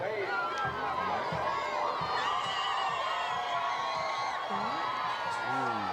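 A high school football crowd at a Davenport Broncos versus Auburndale Bloodhounds game cheers and shouts in a steady, dense roar, with a commentator talking over it.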